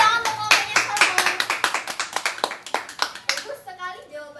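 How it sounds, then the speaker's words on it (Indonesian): A classroom of students claps for a student group during a micro-teaching lesson, a steady rhythmic run of loud, close claps in unison that fades near the end as a voice begins speaking. "Tepuk tangan untuk kelompoknya Salmon."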